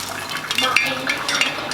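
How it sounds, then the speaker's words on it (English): A little water sprayed into hot olive oil in a pan while pork chops are cooked, giving quick crackling spatter and fizzing bursts, close and fairly loud. "I just sprayed a little bit of water, see if it's ready to be done."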